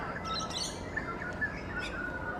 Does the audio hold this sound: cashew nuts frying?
no